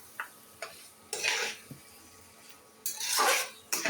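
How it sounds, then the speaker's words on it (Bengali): Chicken feet, gizzard and liver being sautéed in masala with potatoes give short, scattered bursts of stirring and scraping in a pan, with light clicks between them and quiet gaps in a fairly hushed kitchen. "নিয়ে এগুলো এখন একটু কষাবো।"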